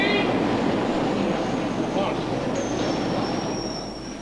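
The Orient Express train rumbles steadily past, a dense rolling roar with a faint high squeal of wheels on the rails.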